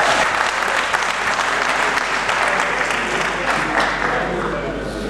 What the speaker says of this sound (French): Waya waya, applaudissez pour vous.